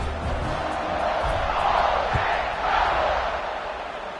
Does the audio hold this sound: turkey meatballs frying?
no